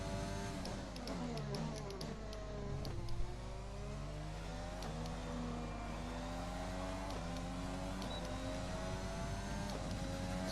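Formula 1 race car engine in the F1 2020 video game, revving hard with rising and falling pitch as gears shift through a lap, a steady close-up roar without talk.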